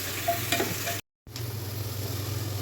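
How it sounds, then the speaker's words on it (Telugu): Small chopped onions frying in oil until golden brown, a close steady sizzle with faint stirring sounds, briefly cut to silence partway through, then resuming, with no talking. "అవి ఫ్రై చేస్తారు ఇప్పుడు, బాగా గోల్డెన్ బ్రౌన్ రావాలి."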